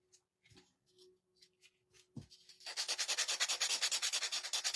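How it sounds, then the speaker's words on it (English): Edges of a small Dollar Tree wooden block being sanded by hand, starting with a few faint taps and scrapes, then switching to a fast, rhythmic rasping stroke that sounds close and fairly loud. "And just sand the edges."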